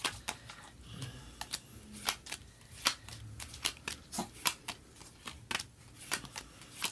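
Tarot cards shuffled close up by hand, a quiet run of crisp, irregular snaps and riffles, each card flick sharp and brief, with no talk over it.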